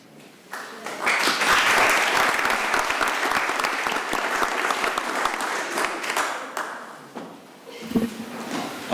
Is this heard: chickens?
no